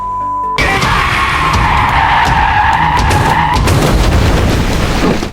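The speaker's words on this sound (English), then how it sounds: "the tattooed man slammed on the gas, causing the car to lose control and crash into the side of the road" A car loses control, with a long loud tire skid and screech, then crashes at the roadside in a rough, noisy impact that ends abruptly. There is no talk.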